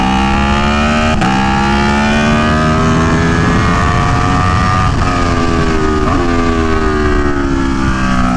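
An Aprilia Tuono V4 1100 Factory motorcycle ridden hard at Buttonwillow Raceway Park. Its V4 engine wails loud and close, with rising pitch as it accelerates and brief dips at gear changes, over steady wind rush.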